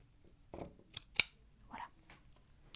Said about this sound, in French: on peut couper le surplus et il ne nous sera pas utile.